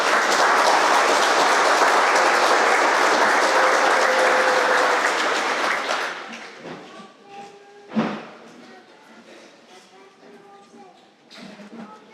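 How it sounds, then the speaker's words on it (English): Audience applause at a 12th grade graduation ceremony: a dense, steady wall of clapping for about six seconds that then fades away, followed by a voice speaking into the hall. "Please give a warm round of applause"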